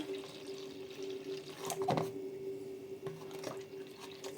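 Whey trickles and splashes into a bowl, with a few brief louder splashes and soft clinks over a low steady hum.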